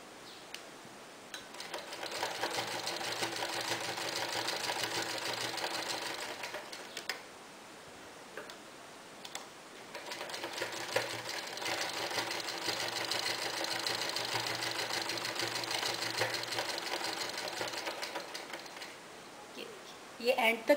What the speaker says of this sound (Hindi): ये एंड तक मैंने सिलाई लगा ली।